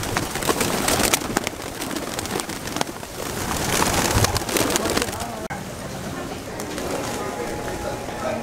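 A flock of pigeons coos in a busy outdoor square in San Juan, Puerto Rico, soft murmuring calls buried in dense crowd chatter and wind-like broadband noise.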